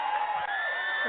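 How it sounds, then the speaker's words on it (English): A big rally crowd roars and whoops behind barriers, a loud, sustained wash of cheering voices with a brief dip partway through. "Let the crowd settle down."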